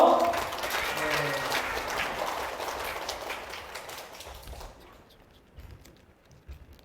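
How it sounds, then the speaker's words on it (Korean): An audience at a study-method concert-style lecture applauds a speaker, the clapping dense at first and then gradually fading to scattered claps and near silence. "우리 하인님께 큰 박수 부탁드려요"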